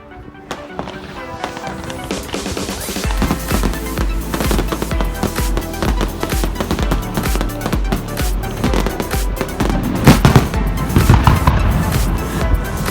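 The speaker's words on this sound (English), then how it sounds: "to celebrate the boat's arrival, they put on a big fireworks display" Dense, continuous crackling and popping bursts of a fireworks display celebrating a boat's arrival, loud and sustained with deep booms building toward the end.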